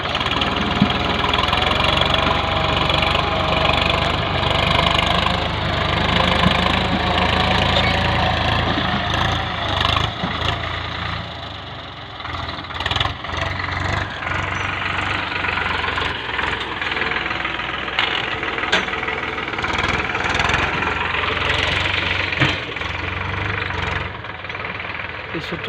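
A VST Shakti tractor engine runs with a steady, loud, chugging rumble and a slight knock, dipping briefly midway, while a person talks over it.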